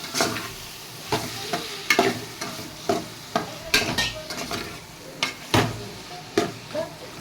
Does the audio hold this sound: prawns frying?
yes